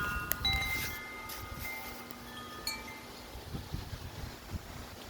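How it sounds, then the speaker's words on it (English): Strong wind rushes and buffets against the microphone outdoors on a windy day, with faint clinks and rattles mixed into the steady blustery noise. "It's super windy right now."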